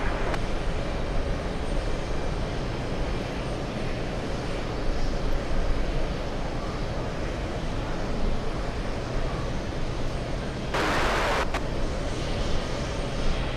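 An Airbus A380 landing, its jet engines giving a loud, steady broadband roar that holds throughout with a short burst of extra noise near the end, heard from outdoors with no talking.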